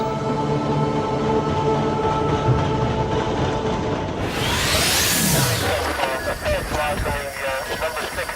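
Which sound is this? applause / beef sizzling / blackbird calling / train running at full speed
train running at full speed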